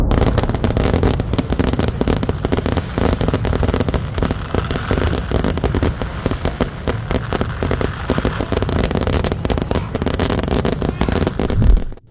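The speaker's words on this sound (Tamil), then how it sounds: "அங்கு வெடிக்கப்பட்ட பட்டாசுகளோட ஒரு சில காட்சிகள் இதோ" Firecrackers burst at the Kavassery Pooram festival in Kerala in a dense, continuous string of sharp pops and crackles, loud and nonstop until the racket cuts out abruptly at the end.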